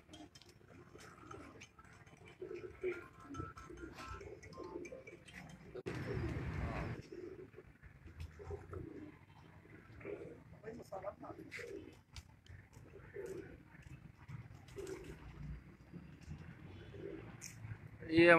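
Pigeons coo softly around a rooftop water tank in Lahore, with a brief burst of flutter midway. People talk nearby throughout.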